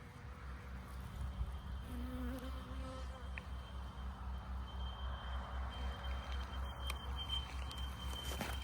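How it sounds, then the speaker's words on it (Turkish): Bees foraging on milkvetch (geven) blossoms, a steady low insect buzz and drone hanging close throughout, with occasional brief higher whines from individual passing bees. "Ya bunlar gevende çalışan arılar."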